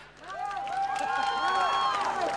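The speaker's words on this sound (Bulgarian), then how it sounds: "Хайде силни аплодисменти за тях!" Graduating class of 2014 in Samokov applauding and cheering its teachers at a graduation ceremony: a close crowd swells into whoops and shouts over scattered clapping.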